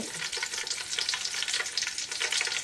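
Whole spices, star anise, cardamom, cloves and cinnamon, fry in hot oil with a steady, dense crackling sizzle and tiny popping bursts, close and continuous without voices.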